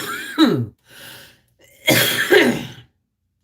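Two harsh, rasping coughs, close by, the second louder and longer, separated by a brief wheezy breath.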